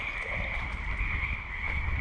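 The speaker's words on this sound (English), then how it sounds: "Frogs don't chirp, they croak." Frogs croak in a steady outdoor chorus at night near a street, with a continuous high insect-like drone over low rumble and no voices.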